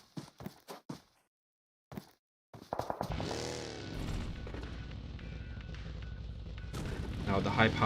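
Video game gunfire: a few separated shots or impacts at first, then after a silent gap a burst of rapid fire and explosions that settles into sustained loud battle noise, with a commentator's voice heard early on.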